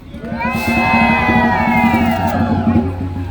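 A rally crowd cheers, whoops and shouts at a Care Not Cuts protest outside the New York City mayor's 2024 State of the City address, a loud, dense roar holding steady throughout.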